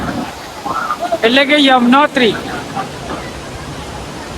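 The Yamuna river flows at Yamunotri as a continuous broadband rush beneath a person speaking close by.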